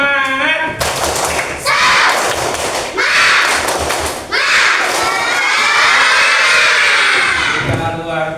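Schoolchildren in a classroom perform a rhythmic spirit clap, tepuk semangat, with bursts of group clapping and shouting voices filling the room, loud and close, between short pauses.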